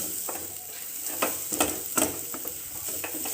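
A carrot and beetroot cutlet mixture is stirred in a pan for a veg cutlet, with soft scraping strokes, light sizzling, and a few sharper clicks of the spoon, all close and steady without any talk.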